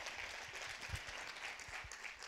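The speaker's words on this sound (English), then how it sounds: "An applause for Luna Vargas." Audience at a medical cannabis conference in an auditorium in Lisbon applauding, a steady patter of many hands clapping with a few louder individual claps, fairly close.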